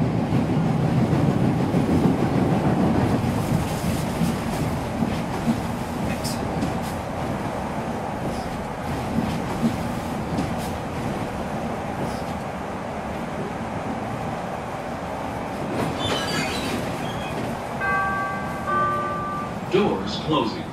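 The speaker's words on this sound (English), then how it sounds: "Whenever she could, Vivian would take the train from the northern suburbs where she worked to downtown Chicago." A train rumbles steadily along the rails with rhythmic clatter, loud at first then settling, with a few electronic chimes near the end.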